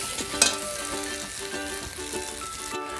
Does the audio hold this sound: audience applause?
no